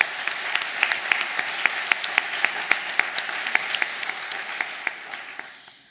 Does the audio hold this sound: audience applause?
yes